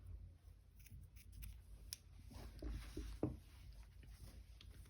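Quiet scissors snip through crochet cotton yarn while finishing a bucket hat. A single soft cut stands out against low room hiss.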